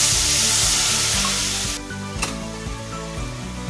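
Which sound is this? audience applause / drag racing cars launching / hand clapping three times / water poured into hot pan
water poured into hot pan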